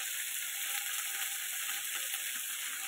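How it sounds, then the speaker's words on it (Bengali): Seeds and eggplant fry in a pan, producing a soft, even sizzling hiss that carries on without a break at a low volume. "এরকম আমার বীজ ভাজা আর বেগুন ভাজা হয়ে গেছে।"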